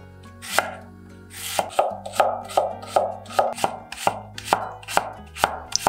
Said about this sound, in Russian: нарезаем лук тоненькими полукольцами или четвертькольцами